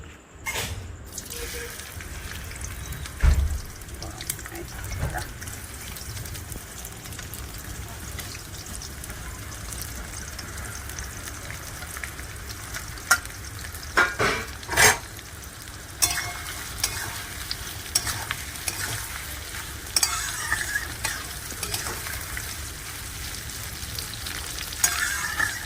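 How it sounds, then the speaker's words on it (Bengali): Chopped onions sizzle and fry in hot oil in a pan while chicken korma is being made, with a steady crackling hiss and occasional clinks and stirring taps throughout. "আমার তেল গরম হয়ে গেছে, এবার আমি পেঁয়াজগুলো ছেড়ে দিচ্ছি।"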